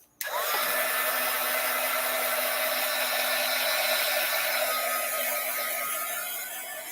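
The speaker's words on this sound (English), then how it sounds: "So heat gun alert." A heat gun blows hot air to dry a craft surface, a steady loud rushing whoosh that starts abruptly and holds unbroken for several seconds before easing slightly, with no talking.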